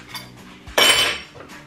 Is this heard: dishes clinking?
yes